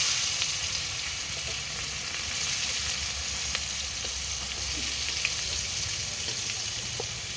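Steady, close sizzling of onions frying in hot oil for chicken biryani, with occasional soft stirring clicks and no voices.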